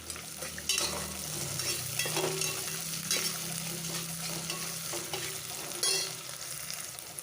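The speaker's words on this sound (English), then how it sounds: "I'll put in about half a teaspoon of rock salt to help the onions to fry up faster. Stir that up." Onions frying in a pan with a little rock salt, stirred with a utensil: a steady soft sizzle runs throughout with repeated scraping stir strokes and occasional clinks, fairly quiet and close, with no talk.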